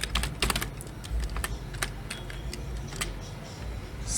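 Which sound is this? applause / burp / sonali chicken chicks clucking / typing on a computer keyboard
typing on a computer keyboard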